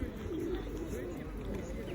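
Low pigeon coos murmur close by amid a dense outdoor rumble in Romania, with a voice speaking over them.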